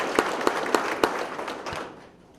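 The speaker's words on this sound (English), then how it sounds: "Let's give him a round of applause." Applause from the audience at a Sarasota police promotional ceremony, loud sharp claps that start strong and thin out over about two seconds, trailing off to quiet.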